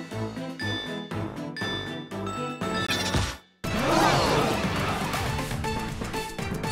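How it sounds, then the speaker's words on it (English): Bells chime in a WarioWare: Move It! microgame, ringing bright and tinkly over layered game music, with a sudden crashing burst of sound near the middle and busy jingles after it. "Ring the bells."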